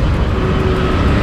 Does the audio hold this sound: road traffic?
yes